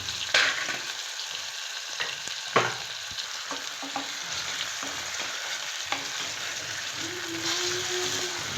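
Cumin and other spices sizzle in hot ghee as a tadka for yellow moong dal, a soft steady crackle broken by a few sharp spits and occasional stirring scrapes, close and fairly quiet.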